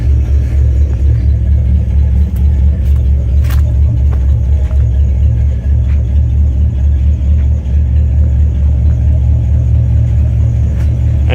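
A Rambler Rebel V8 idles loudly up close while misfiring on seven of eight cylinders and running rich, a steady deep rumbling drone with a slightly uneven pulse and no talk.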